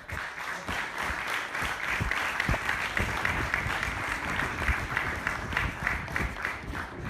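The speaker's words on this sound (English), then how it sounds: "we'll give them an applause on the way" An audience at an agritech event gives sustained, even applause throughout as a panel walks onto the stage, a dense wash of many hands clapping without a break.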